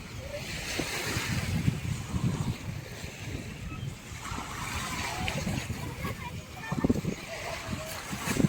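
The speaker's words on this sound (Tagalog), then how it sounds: "Kalmado ang dagat." Calm sea waves wash gently onto Puka Beach in Boracay, a soft steady surf with wind buffeting the microphone while a person speaks nearby.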